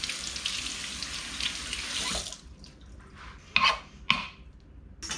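Tap water runs steadily over daikon radish in a sink and then stops abruptly. A few close splashes and clunks follow as the vegetable is handled, with no talking.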